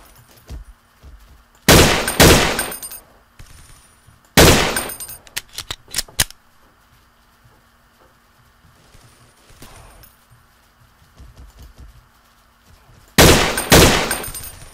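Shotgun blasts in the shooter game Blockade 3D arrive as loud, sharp bursts in three clusters separated by quieter stretches, with a few fainter shots between them.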